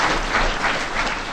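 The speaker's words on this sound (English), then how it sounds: "I'd like to have us just give a round of applause" A dense, steady round of applause from a seated audience for the panelists at a child abuse panel presentation, close and continuous for a brief moment.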